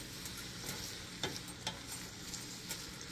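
Sausage and onions frying in a pan, a faint continuous sizzle with a few soft scrapes of stirring, no voices.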